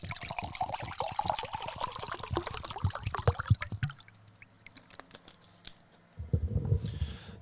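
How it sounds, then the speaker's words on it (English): Water being poured in a small studio: a close, bubbling pour that runs for several seconds, quiets briefly, then returns as a fresh splashing trickle. "I have to get the water going here"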